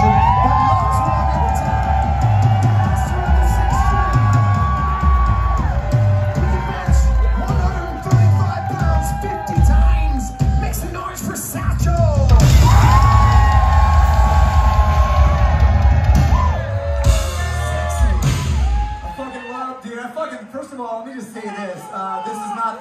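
A rock concert crowd at a show in Lexington cheering, whooping and yelling loudly, a sustained roar of voices with rising surges and a voice speaking over it before the noise drops away.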